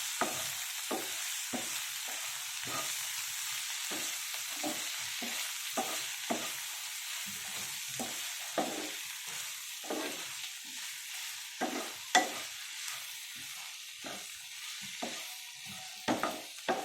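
Boiled cluster beans with turmeric, chili powder and salt stir-fry on a low flame, soft sizzling beneath repeated clacking spatula strokes against the pan, fairly quiet throughout with no talking.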